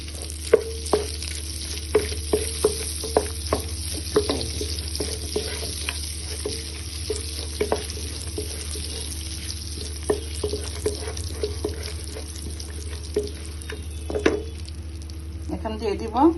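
Spices tempering in hot oil for a Bengali chicken biryani give a steady low sizzle with frequent spoon taps and stirring clicks against the pan throughout, moderately close.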